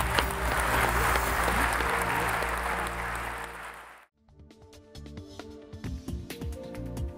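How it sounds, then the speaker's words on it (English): Applause for students on a university campus, a loud sustained wash of clapping for about four seconds that cuts off abruptly, followed by a different, sparser stretch of scattered sounds. "I'd like everyone to give us a round of applause for the students."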